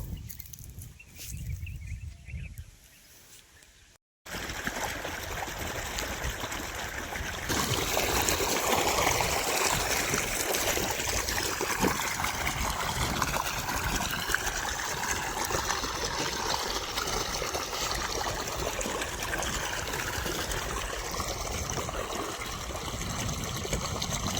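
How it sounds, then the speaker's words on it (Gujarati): Steady rushing and trickling of irrigation water flowing through open channels in a newly sown cumin field, continuous and fairly loud, with a brief quieter stretch near the start. "એક પાણી આ બાજુ હાલે છે એક પાણી અહીંયા હાલે ને એક પાણી અહીંયા હાલે"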